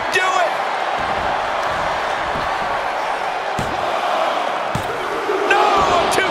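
A wrestling crowd in the video game WWE 2K24 roars and cheers in a dense, continuous wash, broken by a few sharp slams and impacts.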